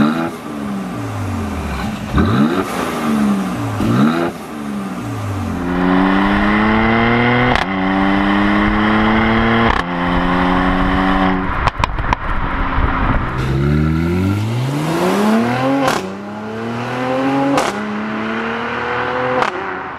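A 2022 Mercedes-Benz GLC 43 AMG 4Matic SUV revs hard through several gears, its engine and exhaust rising in pitch with each surge and dropping at the shifts, loud and close throughout.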